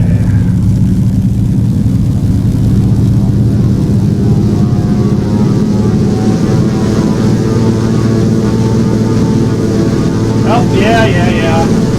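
Thranda Beaver floatplane propeller engine at takeoff power in a flight simulator game, a loud steady droning roar with harmonic tones throughout, with a person briefly speaking over it.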